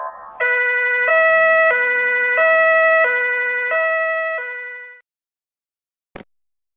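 A cartoon police car siren alternates steadily between two tones for about five seconds, loud and close, then cuts off, followed by a brief click.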